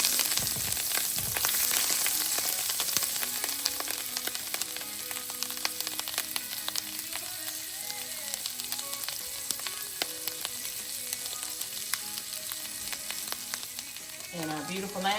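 Butter melts in a hot pan for a sauce, giving a steady, close sizzle and crackle with a few scattered pops throughout, while a voice speaks intermittently over it.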